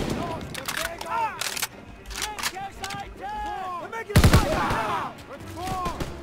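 Sharp gunshots from the World War II shooter Call of Duty WWII, spaced single shots and short bursts with a heavy close blast near the end, under scattered game noise and voices.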